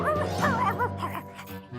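A cartoon dog yips and barks in quick, excited bursts, with pitched whimpering tones running close and steady throughout.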